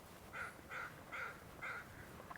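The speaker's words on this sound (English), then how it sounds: "hear the crow." Four distinct caws from a crow, evenly spaced and moderately distant, standing out over quiet outdoor background at Porpoise Bay.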